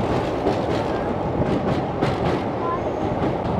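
A train rolls across a rail bridge over the open sea near Rameswaram, a steady loud rumble with faint clickety-clack of wheels, mixed with strong wind buffeting throughout.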